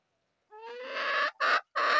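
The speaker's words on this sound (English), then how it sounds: "Look at Lexi, there's a chicken on my shoulder." A bantam hen perched on someone's shoulder clucks up close: one drawn-out rising call followed by two short, sharp clucks, with no talking.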